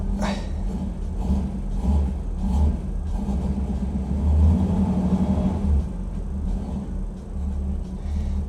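A Jeep Wrangler with an LS engine swap idles and revs, a deep steady rumble with swelling throttle pushes, loud and close, alone without talk.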